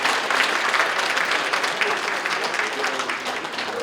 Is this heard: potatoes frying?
no